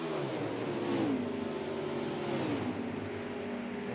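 Race trucks roaring around the Talladega superspeedway, a dense, continuous engine drone with pitch sweeping as the pack passes close by, loud throughout.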